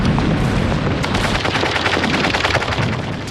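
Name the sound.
German machine gun fire sound effect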